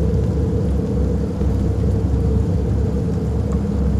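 Steady rain in the Fears to Fathom horror game, a loud, continuous dense hiss with low rumbling underneath, unbroken and without voices.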